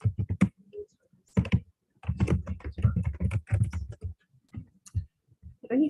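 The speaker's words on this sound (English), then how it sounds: "Are you typing your question?" Computer keyboard typing during an online workshop: irregular bursts of quick, crisp key clicks with brief pauses, close and clear, no speech.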